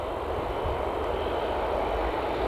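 ATR turboprop engines idling near the taxiway at Newcastle Airport produce a steady, dense, low roar with a broad rumble, heard outdoors at a moderate distance and unchanging across the moment.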